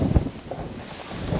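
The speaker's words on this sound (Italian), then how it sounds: "c'è un vento che porta via." Strong wind blows across an open, empty area at a camper park in Spain, buffeting the microphone with low, gusty rumbling for a brief moment.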